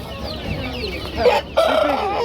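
Hens cluck nearby while a rooster crows in short bursts, fairly loud against a busy poultry market background.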